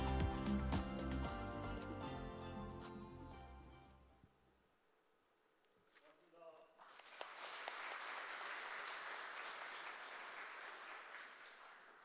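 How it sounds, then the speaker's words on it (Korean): At a Korea Zinc 50th anniversary ceremony, music fades into a short lull, then a hall audience breaks into sustained, moderately distant applause that continues to the end. "큰 박수로 모시겠습니다."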